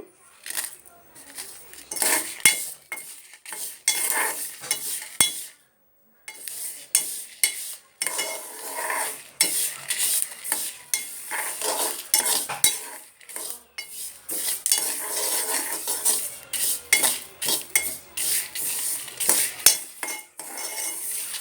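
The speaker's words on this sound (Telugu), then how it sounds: "తెల్ల నువ్వులు ఇదిగోండి, ఇలా వేయించుకోవాలి." A cup of white sesame seeds is dry-roasted in a pan, a busy stream of rattling, scraping stirs as the seeds shift against the metal, close and fairly loud with a couple of brief pauses.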